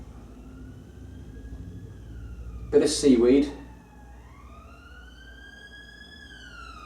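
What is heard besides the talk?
sirens in a city centre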